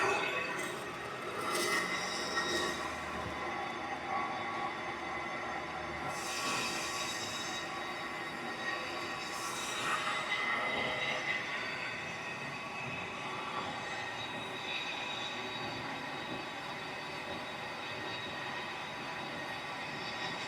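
A brake lathe resurfaces a brake rotor with a continuous metallic whir and scraping hiss, steady throughout with occasional thin squeals rising over the grind, nearby and moderately loud.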